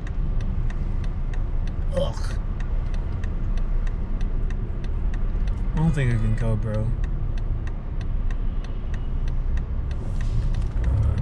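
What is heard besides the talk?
city traffic, cars and engines on the road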